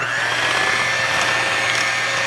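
A handheld electric mixer beats apple muffin batter after half a cup of flour goes in, giving a steady, continuous motor whine with a constant low hum throughout.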